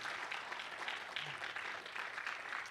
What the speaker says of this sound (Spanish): Le puedo dar un fuerte aplauso al Señor en esta mañana